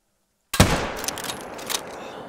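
A single rifle gunshot in the hunting video game theHunter: Call of the Wild, a sudden loud crack after a moment of silence, followed by a long rolling echo that fades slowly.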